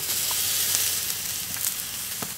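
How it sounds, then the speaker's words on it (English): Bison and beef steaks sear on a hot cooking surface, giving a steady, close, loud sizzle that holds for the whole stretch with faint crackles and no talking. "Listen to that sizzle."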